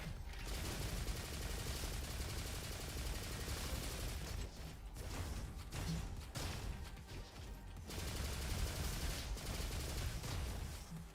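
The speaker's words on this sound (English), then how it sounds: "It's the Soldier 76 rifle." Rapid automatic rifle fire from the Soldier 76 weapon in a first-person shooter game, sustained loud bursts with brief pauses, mechanical clatter and crashing impacts throughout.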